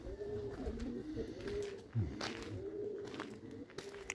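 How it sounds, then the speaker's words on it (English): Rock doves (pigeons) coo in soft, repeated low phrases, close by, over a faint background of other bird chirps and light ambient noise, with no speech. "Oh, they're rock doves."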